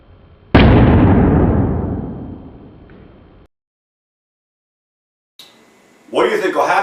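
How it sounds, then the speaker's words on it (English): A water balloon held in a candle flame bursts with a sudden loud pop whose sound decays over a few seconds, followed by silence and then a brief voice. "Yep, the balloon popped."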